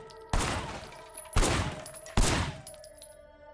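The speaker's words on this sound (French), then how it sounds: "Officer Shen, take up a firing position." Gunfire in the video game Sleeping Dogs during a police firing exercise, three loud sharp shots spaced about a second apart, each trailing off in a decaying echo.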